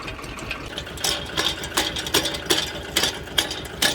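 A mini tractor engine working in a castor field chugs in a rough, uneven rhythm, sharp mechanical knocks repeating about twice a second over a low running drone.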